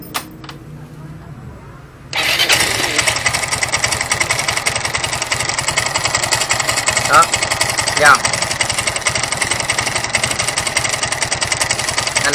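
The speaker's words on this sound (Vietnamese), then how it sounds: "mình sẽ nổ máy cho anh em nghe được tiếng máy một lần nữa nha" A Yamaha Nouvo 6 motorbike that runs as rough as a tractor starts after two seconds of near quiet, then settles into a steady, loud, close clattering idle that runs to the end, with someone talking over it.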